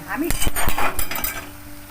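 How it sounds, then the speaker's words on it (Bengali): Fried broiler chicken pieces tossed into a hot pan for a Jharkhand-style curry, with loud close metal clatter and scraping over a light sizzle. "এর মধ্যে আমি ভাজা চিকেনগুলো দিয়ে দিলাম।"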